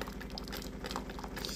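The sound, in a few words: Delonghi coffee maker dispensing hot water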